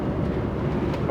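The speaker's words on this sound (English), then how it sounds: "There's actually a bearing sound coming from the rear left" A worn rear-left wheel bearing on an old Rover 216i gives a continuous low droning rumble that holds steady and fairly loud for the whole moment, with no voices.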